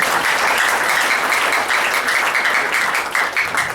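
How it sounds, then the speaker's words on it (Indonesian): Loud, sustained applause from a crowd, dense clapping that holds steady and tapers slightly near the end. "Tepuk tangan buat semua."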